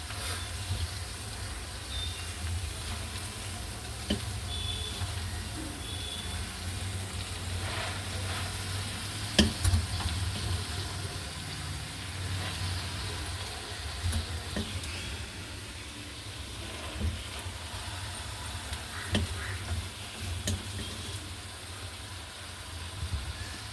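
Amaranth leaves are stir-fried with onions in a pan, making a continuous soft sizzle with occasional clicks of stirring over a low background hum. No one speaks.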